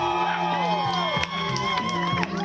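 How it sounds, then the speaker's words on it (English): People in the streets cheer and shout as a statue is pulled down at night, a dense crowd of whoops and yells with scattered clapping throughout. "cheers erupted in the streets as they applauded what they saw as progress"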